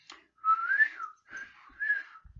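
A person whistles alone in two long, rising and falling melodic phrases, clear and close, with a short pause between them and a faint click at the end.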